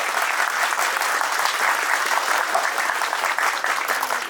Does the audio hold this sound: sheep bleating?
no